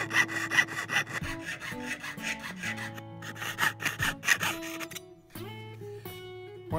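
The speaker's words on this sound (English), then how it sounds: "take a jeweler's saw and cut this out to shape" A jeweler's saw cuts a silver bezel cup to shape, a close, rhythmic rasping of quick back-and-forth strokes with short pauses, and one brief spoken word partway through.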